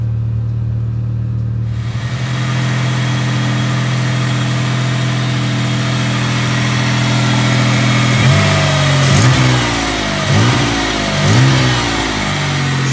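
A car engine catches after a short crank, then settles into a loud, steady idle close by, with several quick throttle blips rising and falling near the end.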